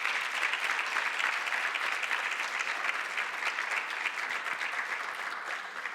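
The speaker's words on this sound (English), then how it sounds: "Let's give Dr. Auguste another round of applause for that." An audience in a symposium hall gives Dr. Auguste a sustained round of applause, dense and steady clapping from many hands that holds for several seconds before easing slightly.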